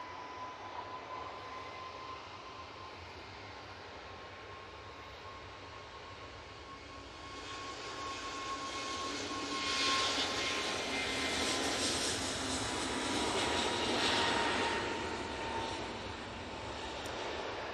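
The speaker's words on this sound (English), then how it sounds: "EasyJet A321 Neo now on roll. Off to Dalaman." An EasyJet Airbus A321neo on its takeoff roll at Manchester Airport, bound for Dalaman: a distant jet hum with a steady whine that builds after a few seconds into a broad, louder roar, then eases slightly near the end.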